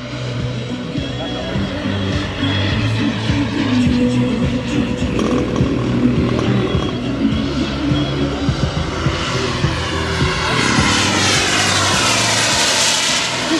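A scale Viper Jet MK II model with a turbine engine lands at a model flying meet, its turbine whining and roaring loudly and continuously as it comes in, while an announcer talks over the engine.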